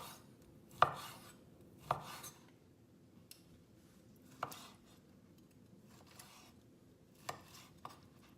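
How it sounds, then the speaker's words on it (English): A knife cuts through steak for tacos on a board, with five or six spaced, moderately quiet chopping thuds separated by brief pauses. "Take the last steak, we're gonna cut it like we were cutting the other steaks."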